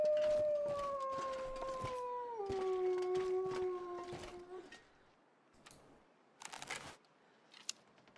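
Wolves howling in the wild, a long sustained howl sliding down in pitch and fading, then only sparse clicks and rustles with a faint distant cry near the end.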